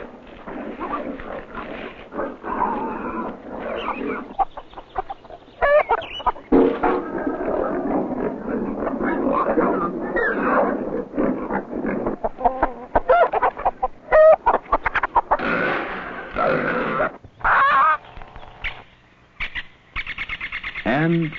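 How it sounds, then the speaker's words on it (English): Hens cluck and squawk in a medieval village farmyard on an old 16mm educational film soundtrack, with a dog and other animals mixed in and people talking over much of it. "He says get Widow Alice's hens out of the waste"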